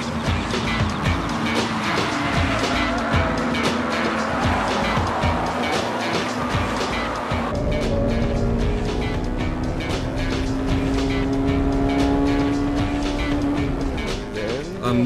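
Honda Civic Type R race car chasing a 190 hp six-speed Celica on track: a loud, continuous high-revving engine wail climbing through gears, with a shift partway through and rising pitch.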